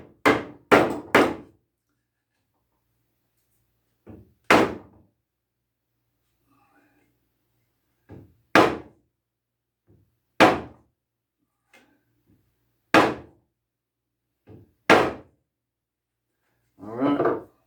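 Mallet or hammer tapping glued rockers onto a handmade wooden rocking chair, a quick burst of three blows, then single sharp knocks spaced a couple of seconds apart in a quiet shop, close, with brief low talk.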